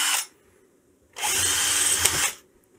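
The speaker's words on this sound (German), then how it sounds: "aber ihr netter großer Bruder, der Akkuschrauber, dürfte jetzt was zu tun kriegen." A cordless drill whirring as it bores into a small polyfuse, a short spin-up followed by a steady, close, loud drilling burst lasting about a second before stopping.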